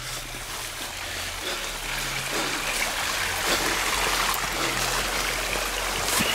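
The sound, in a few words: stream flowing in underground tunnel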